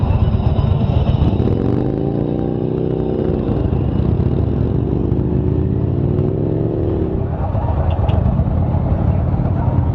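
A motorcycle cruising the Las Vegas Strip, its engine droning steadily and loud throughout, with rising and falling revs and wind and traffic noise around it.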